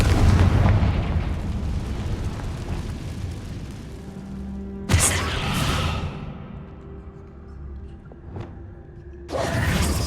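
A Confringo blasting curse in the Hogwarts Legacy video game, heard as a deep rumbling boom that decays, then two more sharp blasts follow, loud and close.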